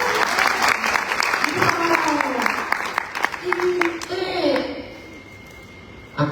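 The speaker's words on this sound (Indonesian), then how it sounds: "Kok tepuk tangan?" An audience at a church conference session breaks into loud sustained clapping that carries through a man's speech, then fades to quiet near the end.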